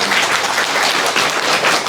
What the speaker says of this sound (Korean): 예, 박수 한번 주세요.